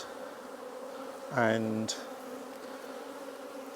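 Honey bees drone steadily throughout a hive inspection in Norfolk, a close, constant buzz; someone briefly speaks a single word over it partway through.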